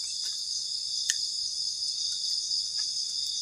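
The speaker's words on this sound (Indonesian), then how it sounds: "ketika malam suara jangkrik itu kenceng banget" Crickets chirp at night at a campsite, a steady high-pitched trilling chorus that carries on without a break, with a few faint clicks near and no voices.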